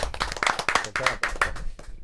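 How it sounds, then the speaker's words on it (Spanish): Audience clapping for Bombón on a Spanish-language interview show: a short run of distinct, close hand claps in an uneven rhythm, with some voices mixed in. "Entonces, un aplauso para Bombón, señores."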